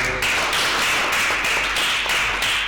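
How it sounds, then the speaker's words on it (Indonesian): Hands clap rapidly and steadily nearby, a dense continuous patter of applause-like claps with no voices. "tepuk tangan dulu"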